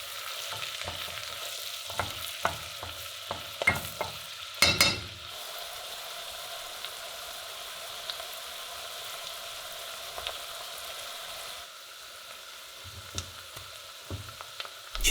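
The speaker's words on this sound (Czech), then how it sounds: "Česnek chviličku restujte, ne moc dlouho, aby nezahořknul" Onion and garlic sautéing in melted butter in a pan, a soft low sizzle with intermittent stirring scrapes and taps, fairly quiet, no voices.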